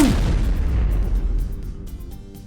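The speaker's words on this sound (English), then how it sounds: "2 grenades exploded." Two grenades explode as an audio drama effect, a heavy, loud boom up close that rolls into a long, fading rumble with no voices over it.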